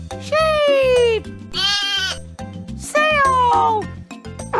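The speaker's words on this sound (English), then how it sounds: "Sheep!" Two long, wavering sheep bleats with a shorter cry between them, loud and close, set over a repeating rhythmic music bed.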